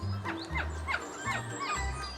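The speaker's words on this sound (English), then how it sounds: "Those little chirpy noises you can hear are happy Capuchin sounds." Several capuchin monkeys make quick, high, happy chirps and squeaks in a rapid cluster, fairly faint, over a low background rumble.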